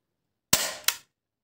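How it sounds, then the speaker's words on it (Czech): Two quick snapping shots from a DL60 SOCOM airsoft spring pistol in close succession, sharp and close, with silence before and after. "Zbraň střílí."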